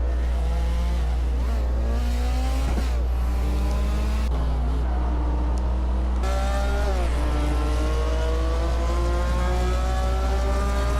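Several cars, a line of BMWs among them, race through a video game track. Their engines drone loud and close without pause, and the whining pitch climbs and falls as they accelerate and shift gears.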